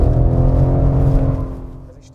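A BMW M3 or M4 engine runs at full throttle while the car drifts through a bend, producing a loud, close, steady roar that fades over the final half-second.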